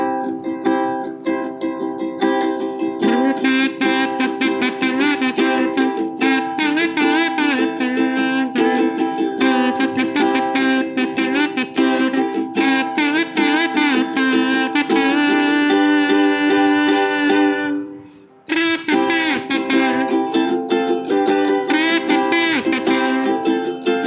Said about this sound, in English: Now when I use the kazoo,